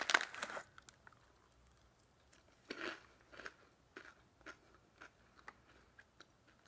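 Someone bites into and chews crunchy chocolate-flavoured puffed rice snacks, giving a loud crackling bite at the start, then quieter scattered crunches and chewing with faint crinkling, close and without talk.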